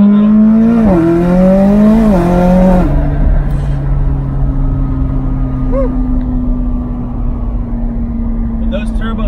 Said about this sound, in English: Those turbos are no joke when they spool.